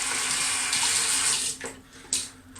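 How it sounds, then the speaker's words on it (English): A running tap splashes water over a shaving brush as it is rinsed, a steady close stream that breaks up and briefly resumes near the end, with no talking. "what I'm going to do is rinse out the brush"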